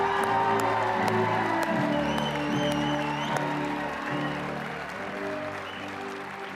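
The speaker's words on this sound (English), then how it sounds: "Let's give a round of applause for all of our graduates today." A crowd at a university graduation ceremony claps steadily for the graduates, sustained applause with a few whoops that slowly fades toward the end.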